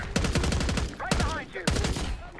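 Rapid AK rifle fire in Black Ops 6, three close, loud automatic bursts in quick succession with short pauses between them.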